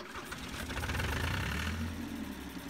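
Grandfather's old tractor engine runs in Farming Simulator 22, a steady low chugging rumble with a rhythmic knock that builds slightly in the middle, close and continuous with no talk.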